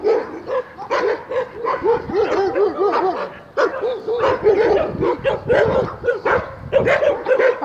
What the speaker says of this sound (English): We'll just stop here next to the barking dogs.